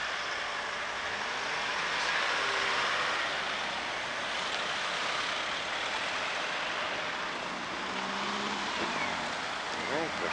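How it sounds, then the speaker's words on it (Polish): Steady stream of cars rolling past a railway level crossing in Cieszyn, a continuous broadband road roar with tyre hiss rising and falling as vehicles pass close by, outdoors with faint voices now and then. "No i proszę, ile to samochody."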